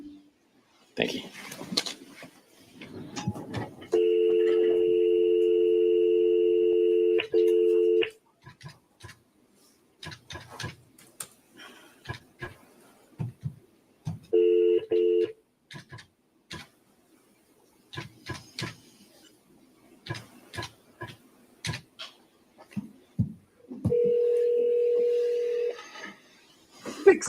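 A telephone call in a courtroom setting: beeping dial tones sound in several short runs, alongside sporadic clicks, tapping and faint talk.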